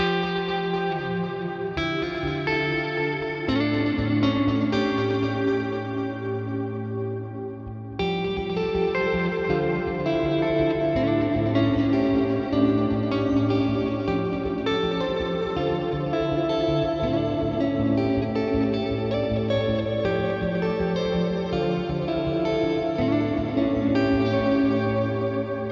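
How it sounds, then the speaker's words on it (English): Electric guitar played in sustained ambient chords through a Rich Hall reverb block placed before the amp, at stock settings, giving a lush washed-out shoegaze wash with long overlapping tails, steady and loud with a brief dip near eight seconds. "add the reverb in front of the amp and it'll sound all kind of cool and shoegazy and washed out"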